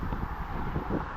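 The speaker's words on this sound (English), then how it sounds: "You'll notice it's windy today," Steady gusty wind buffeting a microphone outdoors on a street during a walk in Maine, a dense roaring rumble throughout with no voices.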